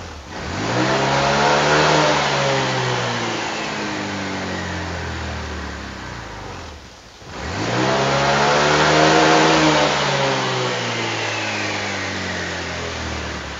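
Bored-up Honda Vario 180cc scooter engine revving hard twice, each long, loud rise in pitch followed by a slow fall, with a brief lean hesitation between pulls and the near motor heard alone.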